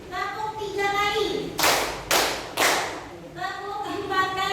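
A group of mothers claps in unison during a counting game led by a teacher, three loud sharp claps spaced about half a second apart, with a spoken voice before and after them.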